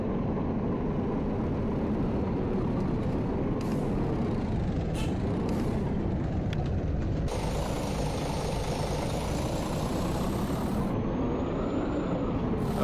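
A coach rattling in Euro Coach Simulator, a continuous engine rumble and rattling drone with a high whine running through the middle, steady and close, no talk.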